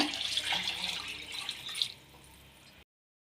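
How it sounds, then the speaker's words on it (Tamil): Water pours from a tap into rice in a pressure cooker for duck biryani, a soft, steady splashing trickle at close range that thins out and cuts off near the end. "எந்த அளவுக்கு அரிசி போட்டிங்களோ அந்தளவுக்கு டபுள் மடங்கு தண்ணி ஊற்றிக்கோங்க"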